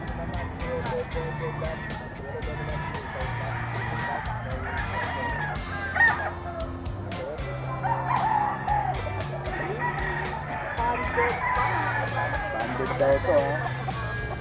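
Roosters for sale at a grotto market in Bulacan crow and cluck repeatedly, several birds close by, while people talk in the background.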